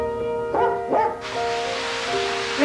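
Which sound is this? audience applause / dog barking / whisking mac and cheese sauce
dog barking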